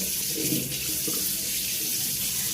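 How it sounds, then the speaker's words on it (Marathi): Running water splashes steadily from a tap close by, with a few louder sloshes as hands scoop it onto a face. "मस्त गुडगुडं पाणी घेणार आहे आता तोंडावर"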